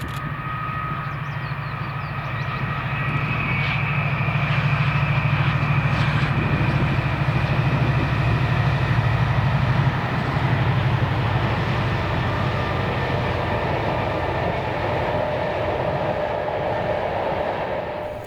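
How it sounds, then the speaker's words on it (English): A Class 37 diesel locomotive, number 7815, hauls an empty aviation fuel freight train past, its steady engine drone and rolling wagon noise holding loud and close for the whole stretch, with no talk. "This is Magascroft with first 6N47, the 1556 Prestwick to Grange empty aviation fuel with 7815, seen here passing at 1855."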